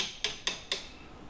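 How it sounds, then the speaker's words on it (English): Old kitchen tiles being chipped off a cooker splashback wall above a gas range, three sharp evenly spaced knocks of a tool against ceramic, close and crisp, each one dying away quickly in a quiet room. "I'm just taking out all the old tiles now"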